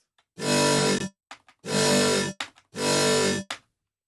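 A thick, buzzing, unprocessed synth bass plays three long sustained notes with short gaps and brief stabs between them, loud and upfront with no voices.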